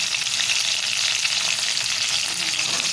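Whole tomatoes and onion sizzle in a pan for a tomato and coconut chutney. The frying hiss is loud, close and steady, with no talk over it.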